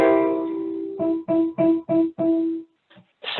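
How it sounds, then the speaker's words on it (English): A dominant seventh chord in first inversion with E in the bass, first as a sustained chord, then struck several times in short, evenly spaced repetitions before falling quiet. "first inversion with the third of the chord, the E on the bottom,"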